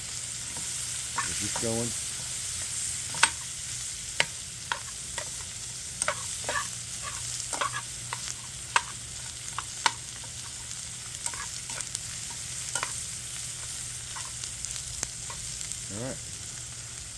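Garlic and onions sizzle steadily in a hot pan, with sharp scrapes and clacks from stirring breaking in at irregular intervals. A voice speaks briefly near the start.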